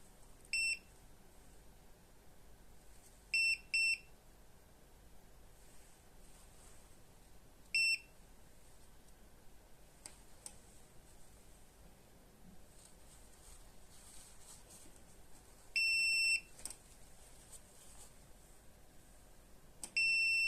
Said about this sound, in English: the buzzer should also sound to alert us of a critical water level situation